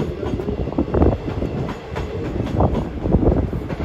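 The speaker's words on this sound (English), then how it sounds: "That's a train." A train rolls past close by, a loud continuous rumble with rhythmic clattering of wheels over rail joints, steady throughout with no voices.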